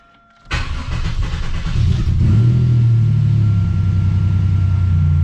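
A car engine cranks and catches at about half a second, then settles into a loud, steady idle rumble that continues to the end.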